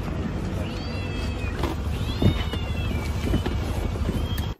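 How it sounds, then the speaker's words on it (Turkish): A kitten stuck in a car engine gives several thin, high-pitched meows spread across the clip over a steady background of wind and rumbling noise. "Yavru kedi uzun uğraşlar sonucu bulunduğu yerden çıkarılmayınca"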